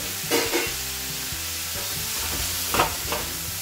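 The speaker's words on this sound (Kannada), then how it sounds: "ಕ್ಯಾರೆಟ್ನ ಹುರ್ಕೊಳ್ಳೋದು" Carrots sizzle steadily in a pan while being stir-fried for a palya, with a few louder scraping stirs of a utensil against the pan over the constant frying hiss, close up and without talking.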